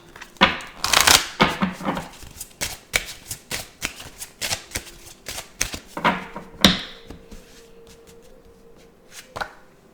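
Tarot cards being shuffled and handled, a run of crisp riffling and slapping bursts repeating through the passage, loud and close with no talk.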